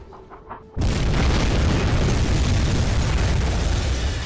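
A T5 torpedo from a U-boat detonates against a corvette in a naval submarine game, a sudden deep boom after a brief quiet moment, then a loud sustained roaring rumble that slowly fades.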